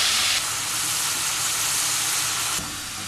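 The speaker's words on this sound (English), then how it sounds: "So we're just going to stick the beef" Loud, continuous sizzle of beef frying in hot sesame oil in a wok, a dense crackling hiss that shifts slightly in level partway through.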